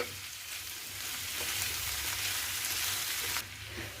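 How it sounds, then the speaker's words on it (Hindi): Two medium tomatoes sauté in a hot pan with onions for restaurant-style matar paneer, a steady close sizzle broken by soft scraping strokes of a spoon as the mixture is stirred. "इसे थोड़ा चलाते हुए सॉटेज कर ले।"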